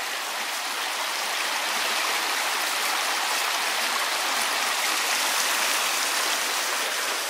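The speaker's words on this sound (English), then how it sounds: "The Babbling Brook." A babbling brook runs through a combe, its steady broadband rush of water close and continuous with no voices.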